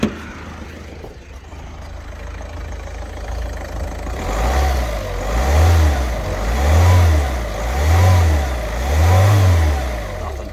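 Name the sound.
Ford Fiesta 1.4 TDCi engine revving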